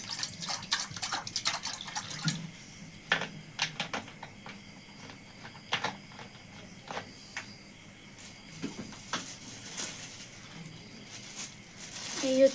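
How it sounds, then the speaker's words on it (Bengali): Sour tamarind water being mixed by hand in a bowl, soft close sloshes and drips in irregular bursts against a quiet room. "আর একটা বাটি নিয়ে আমি টক জল গুলবো"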